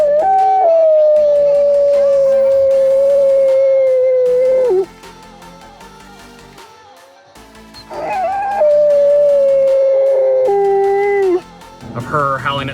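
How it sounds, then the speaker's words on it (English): A dog howls in long sustained wavering tones at close range, pausing briefly before a second drawn-out howl, answering coyotes during a night predator hunt; faint yips follow at the end. "Of her howling at some coyotes that were howling at her"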